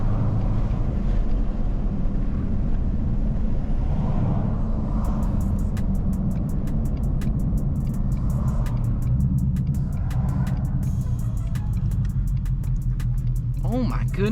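A one-of-one Saleen Mustang's engine roars steadily as the car accelerates hard, a loud continuous low drone from inside the cabin with rising tones and faint ticking in the background.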